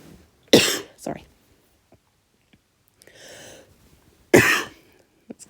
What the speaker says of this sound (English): That's great listening to me cough.